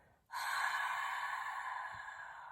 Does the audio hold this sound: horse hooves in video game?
no